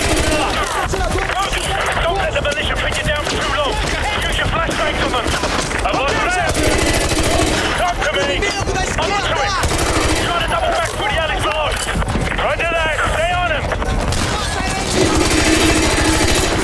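Sustained, loud automatic gunfire and rattling bursts fill a Call of Duty Modern Warfare 2 Remastered campaign firefight, with bursts overlapping one another almost continuously and a busy backdrop of battle noise.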